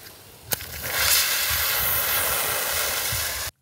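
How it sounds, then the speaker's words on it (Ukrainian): A safety fuse lit with a match: a brief sharp strike, then a loud, steady, close hiss that burns continuously for about three seconds before cutting off abruptly. "Після того, як ви підпалили вогнепровідний шнур"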